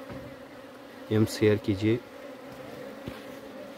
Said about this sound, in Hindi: मधुमक्खियाँ जा रहे हैं।